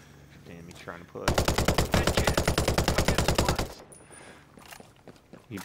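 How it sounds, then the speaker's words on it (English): A long, rapid burst of automatic gunfire in the video game Ghost Recon Breakpoint, loud and close, rattling steadily for a couple of seconds before cutting off into quieter background noise. "I hear gunfire."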